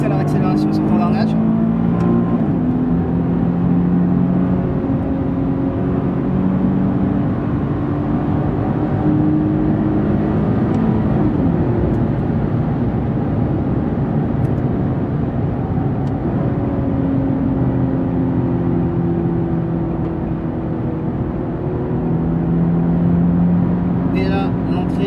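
Nissan 370Z GT4 race car engine pulling hard on circuit, a loud steady drone with rising and falling pitch through gearshifts and re-acceleration, recorded onboard, with a voice talking over it throughout.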